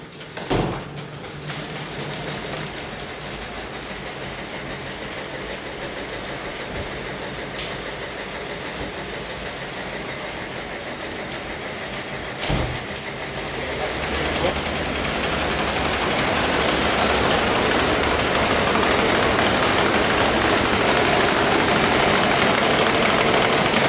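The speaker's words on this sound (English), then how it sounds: "So we're gonna speed the mill up, we're gonna get the grain flowing" A flour mill at Liberty Farms runs with a steady rumbling mechanical drone, then builds to a louder, denser rushing roar as it speeds up and grain begins flowing through, with a couple of sharp knocks along the way.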